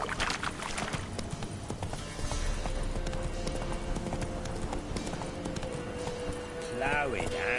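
Roach, a horse in the video game The Witcher 3, galloping with a steady rhythmic clip-clop of hooves under background game sound and a voice, ending with a short neigh.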